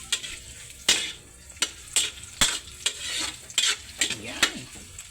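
Lemongrass stir-fried in a hot pan, a constant close sizzle broken by repeated sharp scrapes and clacks of a utensil against the pan at an irregular rhythm.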